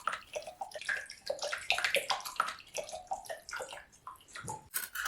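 Water flows through a tube, splashing and gurgling in irregular bursts, with drips and bubbling pops close by.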